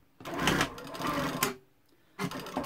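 A sewing machine stitching a blouse: two close, steady bursts of rapid mechanical whirring, the first about a second and a half long, then a short pause before it starts again.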